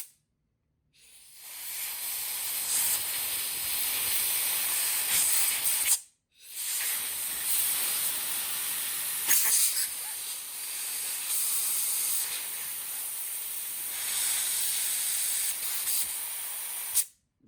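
Compressed air from a small-tipped air compressor nozzle blasts through a Sea Doo fuel line in three long, loud hissing bursts, separated by brief silent gaps.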